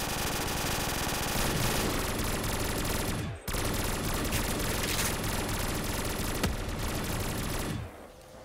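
P90 firing fireworks rounds in Black Ops 3 Custom Zombies, a dense continuous burst of rapid gunfire and crackling explosions that stops briefly once, then runs on loudly until it fades at the end, with no voices.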